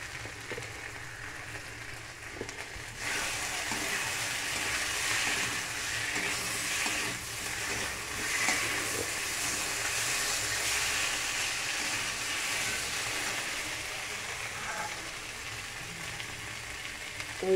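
Masala spice paste with salt, green chilli paste and food colour sizzles in a pan, a soft, steady frying hiss that starts quieter and swells after a few seconds, then holds without talk.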